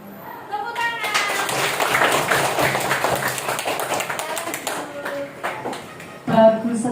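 A fourth-grade elementary school class claps after a classmate reads a poem, a lively burst of many small hands clapping close by, with children's voices and a teacher's voice mixed in toward the end.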